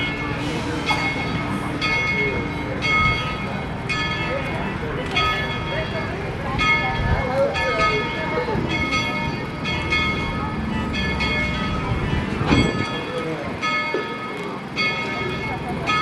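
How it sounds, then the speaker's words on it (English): A train on the Tweetsie Railroad rumbles steadily toward a stop while a bell rings in repeated strokes, with a voice speaking over the steady rolling noise. "please remain in your seats until the train comes to a safe and complete stop."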